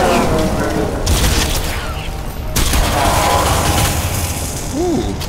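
Heavy gunfire from a weapon in Crysis 2, loud booming blasts with mechanical clatter and rumbling echoes, a couple of distinct bursts about a second apart amid constant battle noise.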